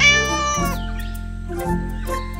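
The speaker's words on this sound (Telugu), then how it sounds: "అతను ఒక పిల్లిని తీసుకొచ్చాడు." A cartoon cat in an animated children's story meows loudly and clearly up close. A drawn-out, wavering cry is followed by two shorter calls about a second apart.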